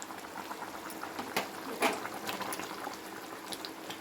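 Telugu fish curry (chepala pulusu) with curry leaves simmering in a pot, a soft steady bubbling and popping close by, with a couple of slightly louder bursts, no talking.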